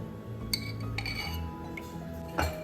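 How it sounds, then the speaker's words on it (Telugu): Metal pot set down on a kitchen stove while cooking egg masala curry, giving a few light, quiet metallic clinks and clatters spread over a couple of seconds. "పొయ్యి మీద ఒక గిన్నె పెట్టుకొని ఇందులో ఆయిల్ వేసుకోవాలి"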